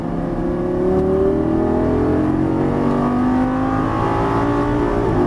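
A Lamborghini Gallardo LP550 accelerates out of a turn on a racetrack, its engine note climbing steadily and loud, rising through the revs in one continuous pull with no talk over it.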